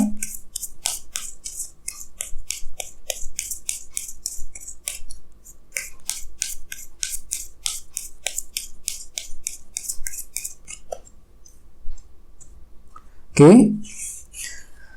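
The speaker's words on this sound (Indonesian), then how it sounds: "Jadi di sini saya akan tarik lagi 2 kartu tambahan, ya." Tarot cards are drawn and shuffled from a deck, giving a rapid run of crisp papery flicks and rustles close by, broken by brief pauses and a short spoken sound near the end.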